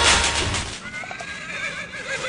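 A horse whinnies loudly up close, a wavering neigh that falls away into fainter trailing calls with a hint of hoof clatter.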